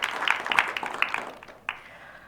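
Applause from a studio audience at an Indonesian regional parliament dialogue forum on environmental pollution rattles for about a second, then fades out, with a last stray clap.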